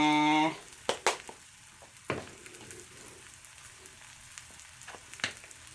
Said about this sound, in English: I got the green peppers and onions over here, sauteing in the cast iron pan.